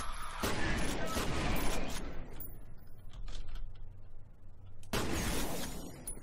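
Shotgun blasts in F.E.A.R., two loud bursts of crackling noise separated by a quieter stretch of low rumble and mechanical clatter, a voice faintly under the action.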